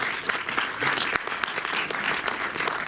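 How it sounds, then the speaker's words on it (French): An audience claps continuously, a dense, even wash of applause with no pauses and no voices. "présente maintenant Nachiketas Vigneuzan, qu'on peut applaudir tout de suite."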